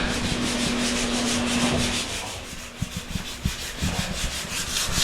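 Steady rasping strokes of number 150 grit sandpaper rubbing on wood for a TV console and kitchen cabinet, close and continuous, with a few soft knocks toward the end.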